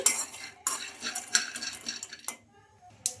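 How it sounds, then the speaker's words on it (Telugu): Peanuts being stirred in a kadai with a metal spoon, a run of quick scraping and clinking strokes against the pan, close and fairly quiet, with no talk. "ఈ పల్లీలు అయితే బాగా ఫ్రై చేసుకోవాలి"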